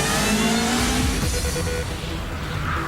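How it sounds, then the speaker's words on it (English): A pre-production car powered by a tweaked Triumph 1200cc motorbike engine making 125 horsepower accelerates hard. Its engine note is loud and continuous and climbs steadily in pitch, with no voices. "It's powered by a tweaked up Triumph 1200cc motorbike engine that gives it 125 horsepower"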